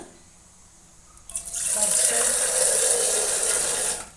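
After a quiet start, a tap is turned on and water gushes steadily into a sink for a few seconds, then stops.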